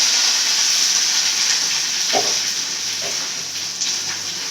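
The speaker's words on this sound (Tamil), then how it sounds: "கருவேப்பில வெங்காயம் போட்டு வச்சு வதக்கலாம்" Curry leaves and onions fry in a pan for a fish curry, a strong continuous sizzle close by with a couple of soft stirring knocks, no speech.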